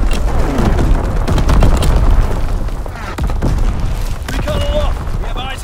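Artillery battery fire in Call of Duty: WWII, Domination on the Shipment 1944 map: dense, continuous booms and blasts for several seconds, with brief tonal radio-like chirps near the end, all loud and close.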